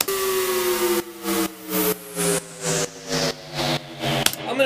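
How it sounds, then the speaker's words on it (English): Broadband white noise from an audio production session, rising and falling in steady pulses about every half second, layered over sustained tonal music with no voices. "Put the white noise back on."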